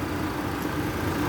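A 1991 GMC Sonoma pickup engine idles close by, a steady low rumbling drone with a slightly uneven texture, alone and without voices.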